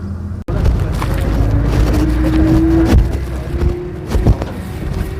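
A new Kartar 4000 combine harvester runs in a soybean field, giving a loud, continuous mechanical roar with a faint steady whine and occasional knocks and rattles.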